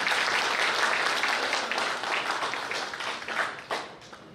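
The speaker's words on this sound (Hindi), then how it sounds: "ताली बजाओ मेरे राम जी" Audience applause at a Ram Katha lecture during a Shri Ram birth-festival talk: dense, steady crowd clapping that holds for several seconds, then thins and fades toward the end, with no voices over it.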